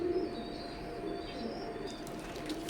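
Imported teddy pigeons kept for breeding give low, soft cooing in a loft, faint and steady beneath light background hum, with a few brief flutters toward the end.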